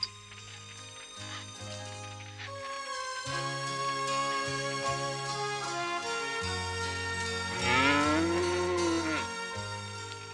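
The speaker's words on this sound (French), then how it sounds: "C'est une vache qu'on entend?" A cow moos once in a long, sliding call in a cartoon farm scene, set against ongoing orchestral music.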